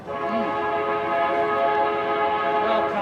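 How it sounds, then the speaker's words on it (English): An intermodal freight train rolls through Williams with a loud, steady drone of engines and wheels. A faint horn tone rises briefly near the start and again near the end. "we got an intermodal train coming through Williams"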